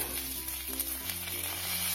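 Crushed garlic sizzles and fries in hot oil in a pan, a steady close crackling hiss with faint stirring and no voices.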